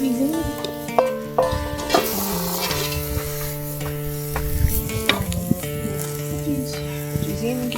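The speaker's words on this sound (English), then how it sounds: "Veggies in, give that a stir." Vegetables sizzle and get stirred in a camp oven over an outdoor fire, steady frying hiss with periodic scraping clatter, close and moderately loud, with background music tones running throughout.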